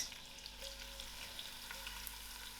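Onion frying in melted ghee for a jackfruit biryani, a steady soft sizzle with light crackling throughout, close but quiet.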